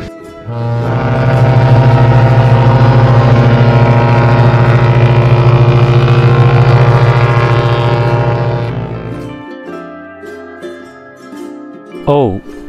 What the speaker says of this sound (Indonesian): O is for ocean liner,